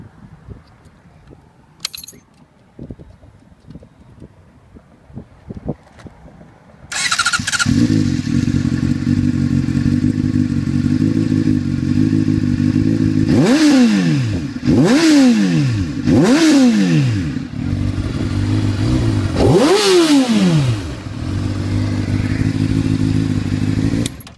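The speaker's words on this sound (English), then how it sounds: "let me give you a little exhaust clip" A 2013 Honda CBR600RR with a Two Brothers exhaust starts after some key and handling clatter, then idles loudly up close and is blipped through several sharp rising and falling revs.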